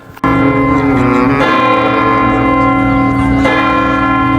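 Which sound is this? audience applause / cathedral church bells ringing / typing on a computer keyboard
cathedral church bells ringing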